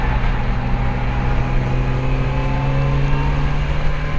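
BMW M3 race cars at Snetterton circuit give off a loud, sustained engine drone with a steady tonal hum, holding a constant pitch as they run past, close and unbroken, with no voices.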